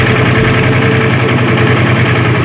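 A tractor engine idles steadily with a low, throbbing rumble and constant vibration, loud and close throughout, with no talk over it.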